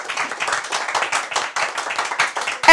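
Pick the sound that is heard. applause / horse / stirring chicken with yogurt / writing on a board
applause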